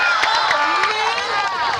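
A studio audience claps and cheers at a Filipino comedy show, a dense, continuous wash of close applause with shouting voices and babble layered over it throughout.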